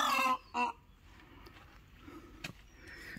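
A peahen at a park in Mukutmanipur gives two loud, shrill, honking calls close by at the start: one longer call, then a shorter one. Quiet outdoor background follows.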